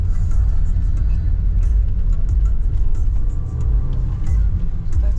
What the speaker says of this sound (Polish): Wyjeżdżamy z parkingu.